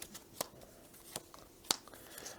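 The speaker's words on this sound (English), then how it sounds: "there's a bunch of cards here that will be shuffled" A deck of board game cards is shuffled quietly, with a few crisp riffling snaps standing out over soft low rustling, close and faint with no talking.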